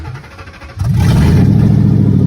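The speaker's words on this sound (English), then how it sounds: "Truck started right up." A 2004 Ford F-150 pickup engine cranks briefly under a faint background, then catches and settles into a loud, steady, close idle that carries on to the end.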